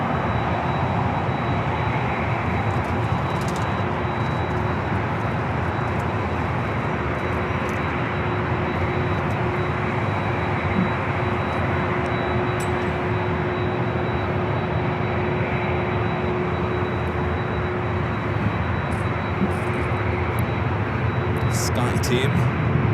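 An airliner takes off at Los Angeles LAX airport, a steady, loud broadband engine roar that holds throughout with no clear rise or fade, with faint talk mixed underneath.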